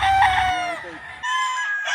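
Chickens and roosters at a large poultry farm in San Rafael, Bulacan, clucking and crowing close by, loud and continuous, with one drawn-out crow rising over the flock.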